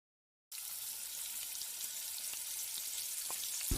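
Sliced onions sautéing in a pan in a home kitchen, a steady broadband sizzle that starts abruptly and holds close and even, with a few faint clinks near the end.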